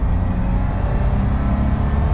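A 1986 BMW E28 528e pulls hard at full throttle from a rolling start, its engine droning loud and steady with a deep low rumble heard from inside the car, with no voices.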